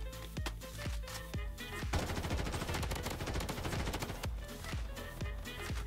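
An M4 rifle fires in the video game Blood Strike, with a few separate shots giving way to long, rapid automatic bursts before tapering back to single cracks, loud and close with no talking.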